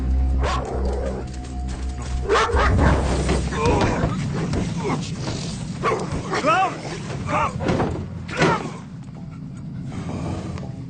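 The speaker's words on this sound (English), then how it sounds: "Call off your fucking dog" A dog barks and yelps in a tense action film scene, short barks scattered through a loud soundtrack of score and effects while people speak over it.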